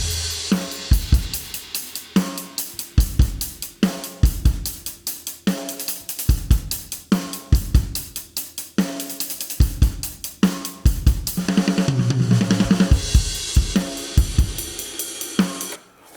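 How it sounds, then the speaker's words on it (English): Soloed drum tracks from a rock song mix, kick, snare, toms and cymbals playing a steady driving beat, loud and close with punchy regular hits, and a busier tom-heavy fill and crash wash near the end. "Solo the drums. Sounds like this."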